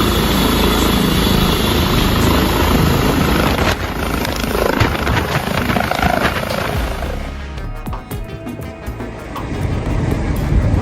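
A rescue helicopter flies past, its steady rotor and engine roar loud and continuous, then easing a little toward the end.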